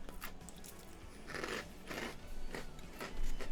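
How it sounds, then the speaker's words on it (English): Veggie straws being bitten and crunched close to the mic, several sharp crisp crunches spaced through the clip with no talking. "I'm going to eat some veggie straws,"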